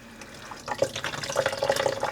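Water squeezed out of freshly dyed yarn by hand, a soft wet splashing and dribbling that builds into steady trickling drips over a couple of seconds, close and moderately quiet.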